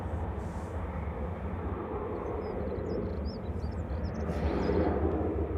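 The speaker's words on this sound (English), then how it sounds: "TB2614 to Chambéry departed in the background there" A departing jet airliner, flight TB2614 bound for Chambéry, taking off from Manchester Airport: a steady, broad distant engine roar that holds even throughout and swells slightly toward the end, with no talk.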